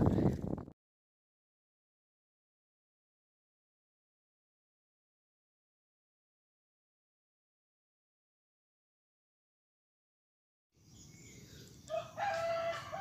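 A wild junglefowl crows during a bird hunt in the Indonesian forest: a single short call rises near the end after a long stretch of silence, faint and distant-sounding.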